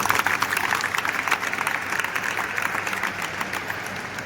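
An audience claps together at a training session, a steady wash of applause that holds at moderate level for a few seconds before slowly thinning.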